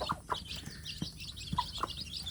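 Young free-range village chicks peep and cluck steadily, several small birds chirping close by in quick, overlapping calls.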